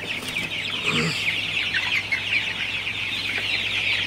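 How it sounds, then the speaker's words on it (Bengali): A dense chorus of Sonali hybrid chickens clucking and chirping steadily in a full shed, with a low hum running underneath throughout. "আপনারা দেখতে পাচ্ছেন আমার শেড পুরাটা ভরে গেছে আসলে মুরগিতে"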